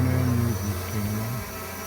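A Holy Stone 700D drone flies close by, its rotors giving a loud steady whine with tonal hums that shift pitch as it maneuvers.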